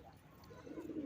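A pigeon gives a soft, low coo, faint and brief against quiet background noise.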